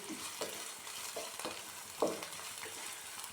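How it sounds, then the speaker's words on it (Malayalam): Onions sautéing in hot oil for a Kerala brinjal mezhukkupuratti, a steady sizzle with a few soft stirring scrapes and clicks of a spoon against the pan. "നല്ലപോലെ ഉള്ളി വഴണ്ട് വന്നാൽ"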